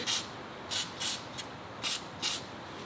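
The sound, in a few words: spraying WD-40 penetrating oil on rusted bolts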